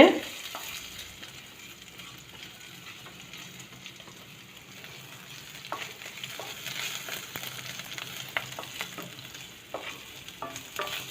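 Garlic pieces frying in a pan with ginger, stirred steadily, giving a low continuous sizzle and scraping close by with no talk.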